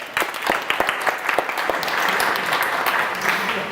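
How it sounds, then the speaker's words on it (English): Audience at a tech conference talk breaks into applause, a burst of close, dense clapping that swells quickly and holds steady for several seconds with no talking. "Can I have an applause, please, for you, because you're here."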